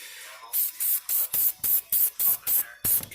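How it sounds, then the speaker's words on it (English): Aerosol lubricant sprayed onto parts of a Beretta 81 Cheetah .32 ACP pistol: ten short, evenly spaced hissing bursts in quick succession, close and fairly quiet. "I'm going to spray each part."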